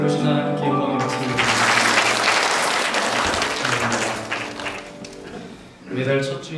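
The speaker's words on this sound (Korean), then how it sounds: "이곳에 들어오신 하나님께 영광의 박수를" A church congregation claps in praise during a Korean worship service. Dense applause swells in the middle and fades, while a sustained voice or music runs beneath it at the start and end.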